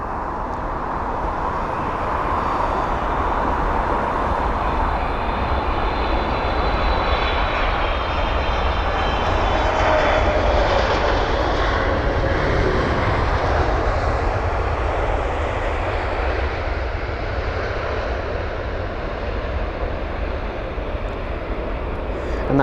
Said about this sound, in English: We have a 777 here of Eva Air.